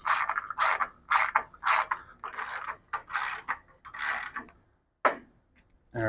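A ratchet cranks a fastener into a Yardistry Contemporary Gazebo during assembly, loud close clicking bursts repeating in a steady back-and-forth rhythm with short pauses, then a final few strokes after a brief gap.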